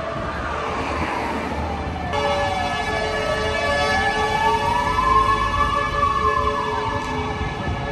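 Police and fire brigade emergency sirens wail in a city street, one rising and falling tone sweeping slowly while other siren tones layer in, loud and continuous with traffic rumble beneath.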